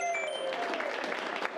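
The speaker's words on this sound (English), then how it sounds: "Give Anthony a big round of applause." Audience applause at a live improv comedy shootout, a quiet, fairly brief burst of clapping from a small crowd heard at a distance.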